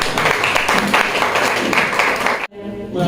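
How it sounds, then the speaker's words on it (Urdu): Audience at an Urdu mushaira and literary gathering bursts into dense, steady applause welcoming a speaker, sustained for over two seconds and then cutting off abruptly into a quiet room. "تالیوں سے ان کا استقبال."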